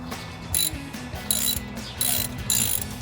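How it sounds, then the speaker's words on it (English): A 3/8 ratchet clicks in short repeated bursts, about four strokes, while tightening a spark plug on a HEMI Charger, with a crisp pawl rattle heard up close and no talking. "I'm gonna go in with our 3/8 ratchet."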